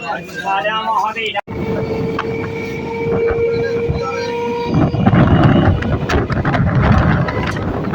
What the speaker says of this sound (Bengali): আমাদের ট্রেনটা এই মুহূর্তে ঢুকলো কল্যাণী স্টেশন